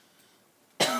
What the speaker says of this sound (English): I have a bit of a cough, so I'm gonna cough a couple times